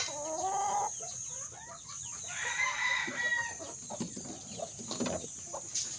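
A flock of pet chickens outdoors clucks and crows, with a rooster's call rising among scattered nearby clucks and cackles against a quiet yard background.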